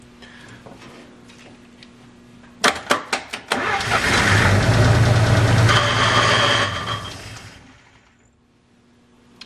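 A 1949 Pontiac engine with a formerly stuck motor cranks in a few quick bursts, then catches and roars, running loud and steady for several seconds before fading back to near silence.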